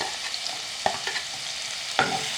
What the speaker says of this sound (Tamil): எல்லாத்தையும் போட்டு நன்றாக கலக்க விட்டோண்டு இருக்கிறோம்.